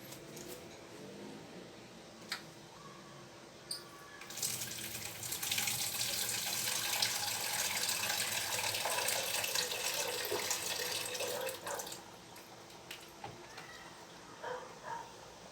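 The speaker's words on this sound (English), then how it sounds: "I add a little bit of water, but I don't want to add much because I want my soup thick." Water running from a tap into a pot of egusi soup, a steady hiss and splash that starts around four seconds in, lasts about eight seconds, then stops, with faint kitchen clatter around it.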